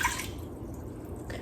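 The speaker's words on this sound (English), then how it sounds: "I want you to add 1 cup of water to it." Brief splashing and dripping of water being poured into a pressure cooker over a trivet, close and moderately loud with no talk.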